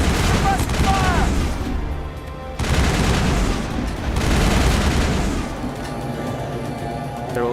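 Rapid gunfire in a Mass Effect firefight at an anti-aircraft tower, with loud bursts and booms in uneven waves, mixed with music and voices talking over the shooting.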